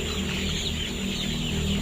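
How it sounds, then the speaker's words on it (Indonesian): A chicken with a cold makes a steady, rattling, snoring wheeze, faint and continuous under a noisy, hissy background without clear breaks. "kayak krek krek krek gitu kan ya. Nah itu tandanya ayam tuh lagi kena pilek"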